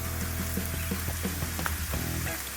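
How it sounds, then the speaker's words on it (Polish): Chopped onion and leek sizzle in hot oil left over from frying fish, a steady close crackling fizz with scattered pops, heard alone without any voices. "Na rozgrzany olej po naszych rybach wrzucamy cebulę oraz por."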